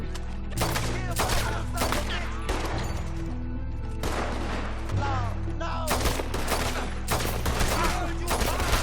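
Rapid, loud bursts of gunfire fill a Red Dead Redemption 2 shootout, shots cracking in dense irregular volleys throughout with brief gaps between clusters.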